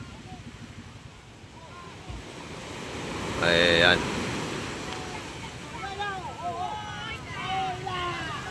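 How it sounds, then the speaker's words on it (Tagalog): Steady roar of large ocean waves and surf with wind at a fish terminal in Tanza, a brief voice in the middle and another faint voice later. "Ang laki ng alon."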